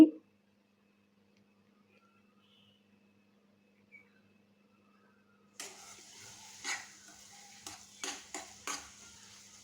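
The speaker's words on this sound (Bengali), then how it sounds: "এখন ডিমটা দিয়ে ভালো করে নেড়ে চেড়ে দিচ্ছি" Pointed gourd mash with egg is stirred in a pan: near-silence at first, then a run of quick scraping and clinking strokes against the pan, moderately close and fairly quiet.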